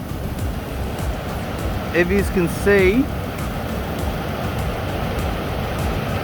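A steady, full-bodied roar of rushing water pours from Wappa Falls in the misty early morning, continuous throughout, with someone speaking briefly over it partway through.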